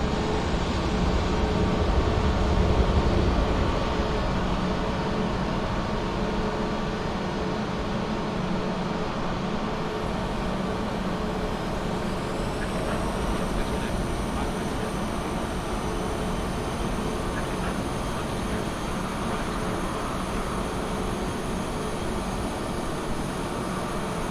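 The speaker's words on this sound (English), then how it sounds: "we'll see how well we can hear this engine start up on engine 2" A steady, broad jet engine roar fills the whole stretch in Microsoft Flight Simulator, with a high whine rising and settling partway through as an A320neo's engine 2 spools up.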